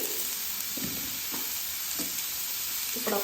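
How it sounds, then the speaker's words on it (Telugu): Carrot and beetroot pieces go into hot oil already used for frying green chillies, giving a steady close sizzle with a few soft stirring scrapes and bursts, no talk. "పచ్చిమిర్చిలు వేయించిన ఆయిల్లోని క్యారెట్ బీట్రూట్ ముక్కలు కూడా వేస్తున్నానండి"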